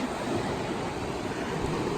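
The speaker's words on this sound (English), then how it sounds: "And here we have the Arkansas River. Wow, look how high it's flowing." The Arkansas River running high with snowmelt, a dense continuous roar of rushing water, close and steady with no talk.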